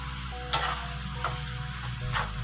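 Spiced soy-sauce chicken sizzles steadily in a hot pan, with a few brief scraping stirs of a utensil breaking through the continuous frying hiss.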